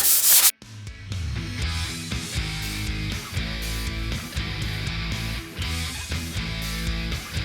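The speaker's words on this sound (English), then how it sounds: "Don't be afraid to go through material as far as sandpaper goes." Sandpaper is worked by hand over primer on a car grille in a series of repeated rubbing strokes with a steady back-and-forth rhythm, close and fairly loud, after a brief sharp noise at the start.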